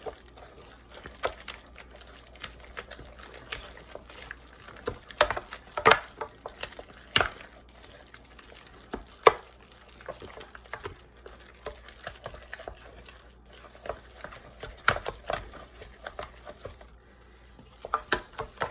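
A wooden spoon stirs eggs into thick choux paste in a pot, giving soft intermittent slapping and scraping knocks at an irregular rhythm, close and fairly quiet.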